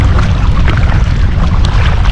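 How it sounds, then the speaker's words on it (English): Strong wind buffets a kayak on Plum Creek Canyon Reservoir in Elwood, Nebraska, a loud continuous low rumble of gusts hitting the microphone with faint water lapping underneath. "There's the strong wind blowing at my kayak."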